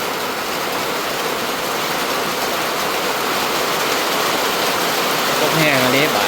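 Steady rain falls outdoors at a home, a dense continuous hiss throughout, with a brief tonal sound near the end.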